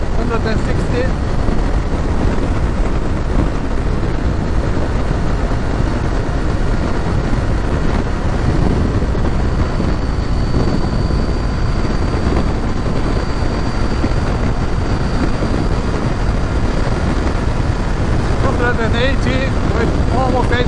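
A 2019 KTM 790 Adventure S motorcycle engine revving near 8,000 RPM on the highway, a steady loud drone blended with heavy wind rush that stays constant throughout.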